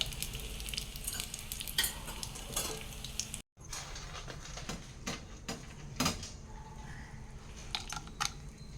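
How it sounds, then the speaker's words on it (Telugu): Mustard seeds and cumin sizzle and crackle in hot tempering oil, a steady close frying hiss with scattered pops and a brief break partway through, for okra (bendakaya) fry. "ఇందులో ఆవాలు జీలకర్ర వేసేద్దాం పోపులో"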